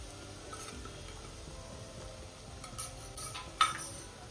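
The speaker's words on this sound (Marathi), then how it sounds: "तेल इथं गरम झालेलं आहे आणि आपण आता त्याच्यामध्ये धनिया पावडर टाकायचं आहे आणि त्याला मस्त भाजून घ्यायचं" A spoon stirs coriander powder roasting in hot oil in a pan, giving faint scraping sizzle and a few soft clinks of metal against the pan, close and quiet.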